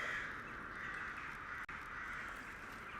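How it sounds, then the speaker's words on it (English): Crows caw outdoors, a steady flurry of harsh calls heard faintly from a distance through a room, without any talk over them. "the crows are fucking popping off"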